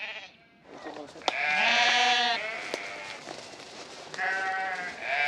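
Sheep bleat loudly and close by on a farm hit by a long run of dry seasons, with several drawn-out wavering calls separated by short pauses.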